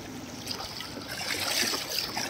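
Bare feet wade across the shallow Kosi river, with soft close sloshing and trickling water that swells slightly midway, no voices over it.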